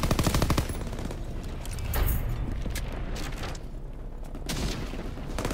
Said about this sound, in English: You're supposed to shoot the lights, I think.